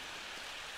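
Steady rain falling in a Plants vs Zombies game level, a faint even hiss of rainfall with no voices over it.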